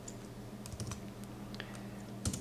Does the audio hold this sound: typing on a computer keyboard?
yes